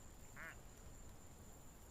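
A single short quack-like laugh rings out from a clicked cartoon clown duck in a game, brief and faint over a steady background hiss.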